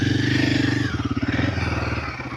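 A Royal Enfield Himalayan 450 motorcycle engine idling close by, a loud, steady pulsing thump whose rhythm shifts and loosens partway through, with no talk.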